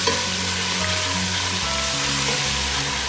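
Garlic and ginger sauté in a cup of oil for an achari chicken, giving a steady, loud sizzle and crackle that holds for the full three seconds with no talking.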